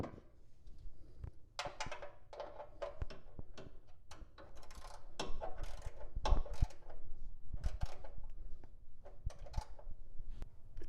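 The oil drain plug on a Foxbody Mustang being tightened down: a quiet run of metallic ratcheting clicks and small clanks, irregular and close, with occasional louder knocks.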